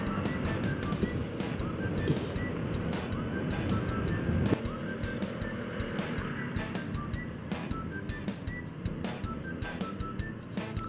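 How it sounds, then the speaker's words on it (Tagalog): Road traffic rumbles past on the move as someone rides a Vespa Primavera 150i, with engine drone and heavy wind buffeting on the microphone forming a dense, continuous wash of noise. "aba, traffic ha."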